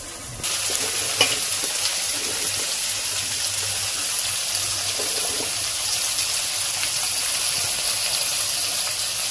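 Spice masala for a village-style rui fish curry fries and sizzles steadily in hot oil, with stirring scrapes and strokes breaking through the constant hiss.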